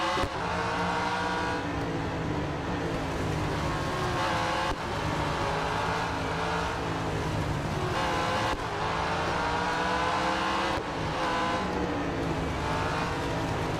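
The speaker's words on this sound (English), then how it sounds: "It's got a great sound as well in terms of the engine." A race car engine in the Real Racing 3 mobile game revs hard and continuously, the pitch climbing through repeated gear changes with brief shift gaps, loud and close with a faint tire squeal.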